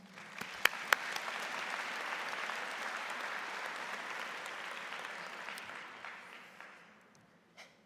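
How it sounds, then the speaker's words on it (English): Audience applause for the President at a spring university convocation ceremony, a large hall of clapping that builds quickly, holds steady for several seconds, then fades out, with a few sharp louder claps near the start. "let's give a nice round of applause for our President."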